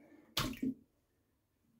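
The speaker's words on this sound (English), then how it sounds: "let's knock my precious small sample bowl into the water in the sink" A small sample bowl knocked into water in a sink makes one sharp close splash, followed by a smaller second slosh, then near silence.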